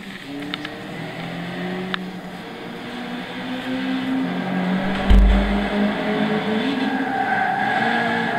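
A 1987 Lotus Esprit HC 2.2 16V Turbo, mid-engined and rear-wheel drive, races around the 1980s Monza circuit in Gran Turismo 6, its engine droning steadily and shifting pitch through the gears, with a low thump partway through.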